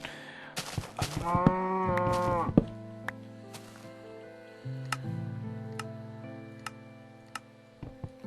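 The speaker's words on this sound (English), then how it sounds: "Stupid cows" Minecraft cows moo in the game, one long, loud bovine call up close, followed by lower, drawn-out moos and scattered ticking clicks from gameplay.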